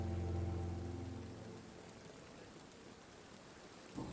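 Rain falls in the video game Vampyr, a soft continuous hiss under a fading low tonal drone, fairly quiet and even, with a small knock near the end and no speech.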